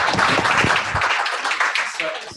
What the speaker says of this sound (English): if we could give a round of applause for our guest speaker